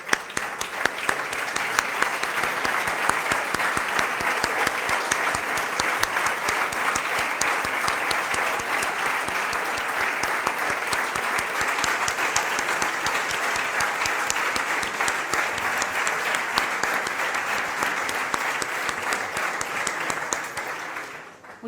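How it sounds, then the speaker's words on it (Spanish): A breakfast event audience gives sustained applause, a loud, dense and even roar of clapping lasting over twenty seconds before stopping abruptly. "creo que os merecéis un aplauso"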